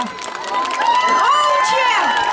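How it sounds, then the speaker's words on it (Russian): Crowd cheering and shouting at an outdoor hay art festival award ceremony for a village mowing contest, a lively sustained roar with whoops and voices rising over a steady hubbub, near and loud. "Аплодисменты, Покче!"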